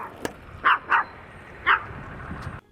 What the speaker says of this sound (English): oh, look at this dog.